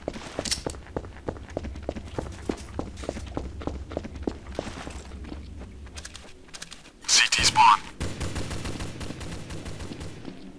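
Rapid Counter-Strike: Source gunfire pops in a steady stream of shots, then a louder burst of blast noise and a few scattered shots.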